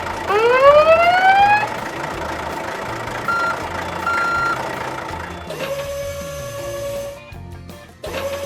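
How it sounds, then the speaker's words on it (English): A toy tow truck starts with a rising siren-like whine, followed by a steady mechanical hum and then a run of electronic reversing beeps near the end. "We need a tow truck."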